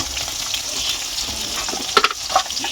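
Onions salted and frying in a pan on a tribal home kitchen stove give a steady, loud close sizzle, with a few sharp stirring clatters near the end and no voices.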